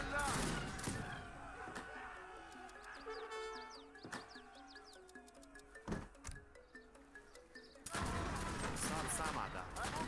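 Scattered booming cannon shots ring out over a chaotic battle scene in Age of Empires 3, with music and voices mixed underneath.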